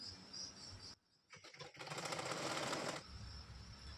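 Sewing machine stitching fabric for a hair scrunchie, running in a steady mechanical whir that pauses briefly and then resumes louder and faster for over a second before easing off, close up with no talking.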